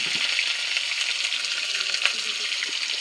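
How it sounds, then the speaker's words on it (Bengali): Potato pieces fry in hot oil with a steady, close sizzle and faint crackles, loud and continuous throughout with no voices over it. "আলুটাকে ভেজে দিচ্ছি।"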